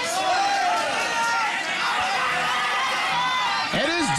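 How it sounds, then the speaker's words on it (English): A loud fight crowd at a Muay Thai bout roars and cheers continuously, with whoops and shouts rising over a dense wall of noise. "Every time Tramsek lands, this crowd goes absolutely bananas."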